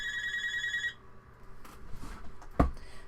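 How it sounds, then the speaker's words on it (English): A telephone rings with a repeated electronic trill in short bursts, fairly loud and close, then cuts off, followed by quiet room handling noise and a sharp knock. "Figures when you start to film, the phones go off."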